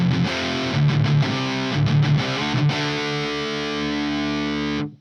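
Peavey Valveking 100 tube amp with overdriven electric guitar, gain knob set midway, loud and close: heavily distorted chords strummed in short rhythmic bursts, then one chord left ringing before it cuts off.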